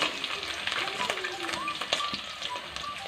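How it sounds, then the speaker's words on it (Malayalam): Chopped ginger and garlic frying in oil for a sweet lemon pickle crackle and sizzle at a moderate level, with scattered spatula taps and a voice speaking over the cooking. "ഇഞ്ചി വെളുത്തുള്ളി ഇട്ടിട്ട് ഇനി ഇത് നല്ലതുപോലെ ഒന്ന് മൂത്ത് വരട്ടെ"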